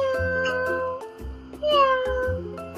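A human voice imitates an affectionate kitten, giving a run of soft, drawn-out meows in quick succession, each rising and falling in pitch.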